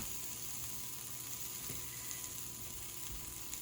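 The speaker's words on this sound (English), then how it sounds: "I'm going to start by putting onions down in the pan. And I'll saute those for a minute" Onions sauté in a pan for a potato and hamburger casserole, giving a steady, even sizzle and crackle that holds at the same level throughout.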